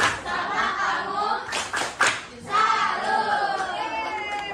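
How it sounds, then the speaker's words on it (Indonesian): A group performs the rhythmic 'tepuk salut' clap, a burst of patterned handclaps from many people in a school gathering, mixed with crowd voices, chatter and a shout, with claps peaking in the middle. "Tepuk salut dulu, tepuk salut."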